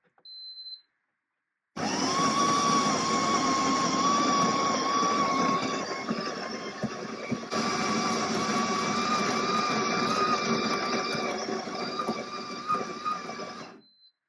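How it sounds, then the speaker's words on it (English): Ninja Cafe Luxe Premier Series coffee machine grinding coffee beans, a loud continuous whirring grind lasting about twelve seconds at close range, after a brief short whir at the start. "The next step is to start grinding your beans."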